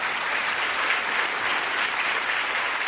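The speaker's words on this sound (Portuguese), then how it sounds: "Aplauda o Senhor Jesus." A church congregation claps together in steady, even applause, a continuous moderately loud wash of hands with no talk over it.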